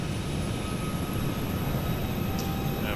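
Airplane engine in a flight simulator game during a final approach over the Rocky Mountains: a constant, even drone with broadband rushing noise, steady and unbroken throughout.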